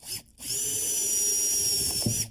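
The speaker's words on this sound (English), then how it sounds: "you need this attachment for the end of your drill. You put the screw in there. Drive it down." A power drill whines steadily at close range as it drives a screw into subfloor, starting after a short pause and running for about two seconds.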